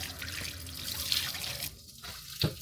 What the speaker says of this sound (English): I give them one final rinse, then cover them with a basket for the night.